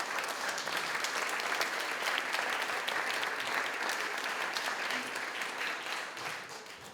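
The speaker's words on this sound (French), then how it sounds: "Vous pouvez vous applaudir." An audience at the close of an evening talk bursts into continuous, even applause that holds steady for several seconds and fades slightly at the end, with no talking.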